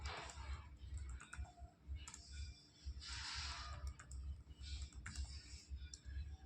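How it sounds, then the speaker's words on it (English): A password typed on a computer keyboard at a Windows remote desktop login: soft, quick bursts of key clicks with short pauses, faint and close, with no voices. "And I'm entering the password of Windows Pro Edition"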